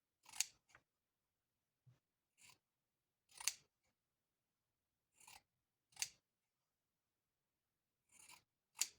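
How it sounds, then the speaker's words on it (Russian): Scissors snip through fabric while squares are separated for a patchwork block, with seven or eight crisp, separate cuts spaced irregularly and heard up close and alone, without any talk. "И здесь уже можно резать ножницами."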